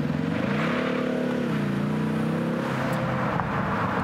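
A Ford Mustang with the 2.3-litre EcoBoost engine pulls hard from a standstill, its engine note loud and close and rising steadily in pitch as it accelerates, with no talking over it.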